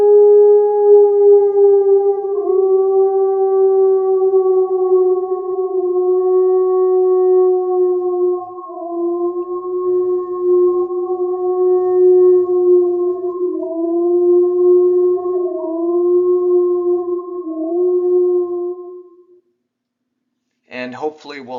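A wolf howls at Yellowstone in one long, sustained, tonal cry with slight pitch bends and harmonics, carrying for nearly twenty seconds before fading to silence, with a brief noisy burst at the very end.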